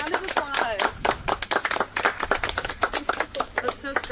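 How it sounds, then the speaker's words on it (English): Scattered clapping from a small group at an outdoor camp tent relay race, uneven sharp claps mixed with overlapping talk and excited voices throughout. "You guys, round of applause."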